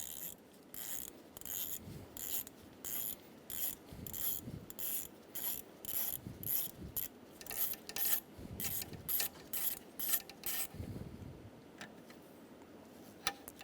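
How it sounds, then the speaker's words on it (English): A ratchet with an E8 socket turns out the VVT sensor bolt on a 2012–2020 Chevrolet Sonic engine. The pawl gives a steady, rapid series of close clicking bursts in even strokes, then falls quiet near the end. "Using a E8 socket, we're going to remove the bolt for the VVT sensor"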